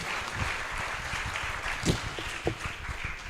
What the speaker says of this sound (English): give a big applause for our great speakers today